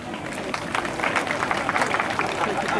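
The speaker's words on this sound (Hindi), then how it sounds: "अब आप तालियां बजा सकते हैं।" Outdoor audience at a village panchayat Republic Day event breaking into steady applause, a dense patter of many hands clapping at moderate distance.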